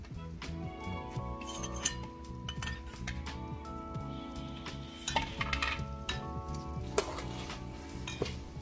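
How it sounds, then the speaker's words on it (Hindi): Spoon stirring and mixing baingan bharta, a mash of roasted eggplant with fresh chopped coriander, cooked on a clay chulha stove; steady scraping and clinking of metal against the pan with faint sizzling, close and continuous, no talking. "अब हम इसको एक बार और चला लेते हैं, अच्छे से मिक्स कर लेते हैं।"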